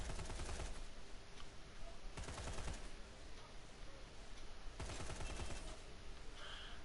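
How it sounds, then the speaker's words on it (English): Rapid blind-fire gunshots in the first-person shooter Lawbreakers: loud, dense automatic bursts in three long volleys, close and continuous, with brief gaps between strings of shots. "Okay, blind fire."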